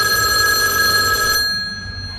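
A telephone rings with a bright electronic trill on a café terrace, loud and close, then cuts off before the call is answered.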